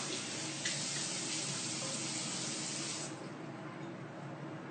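A face is rinsed with water after cleansing: a steady, close rush of running water that drops to a quieter trickle partway through.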